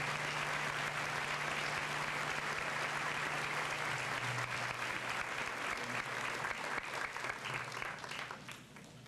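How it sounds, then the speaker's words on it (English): A school assembly audience gives sustained applause for scholarship students at a senior assembly, a dense steady wash of clapping that tapers off near the end. "Let's give them a nice round of applause."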